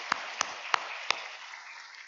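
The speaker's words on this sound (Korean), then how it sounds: "우리 박수로 한 번 더 영광 돌리겠습니다" Four sharp, separate claps ring out faintly in a quiet room during a New Year's Eve church worship service, then fade into a soft hiss.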